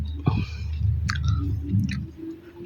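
Close, wet chewing of hardened, bitter-tasting gum that has been chewed for hours, shifted to one side of the mouth because of a sore tooth; steady smacking and squelching with a few sharper clicks, no talking.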